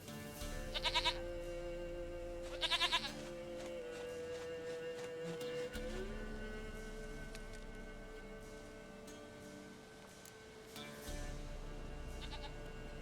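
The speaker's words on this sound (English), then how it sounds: "Goat of mine, dearest, sweetest goat" Goat bleats in The Witcher 3: Wild Hunt, two short bursts of bleating early on and another near the end, heard over a sustained game music drone with a shifting tonal line.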